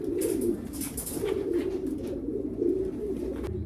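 A Blue Bar racing pigeon at a breeding loft coos in a steady, low, continuous burble with a few brief higher chirps overhead, close to the recorder and with no talking.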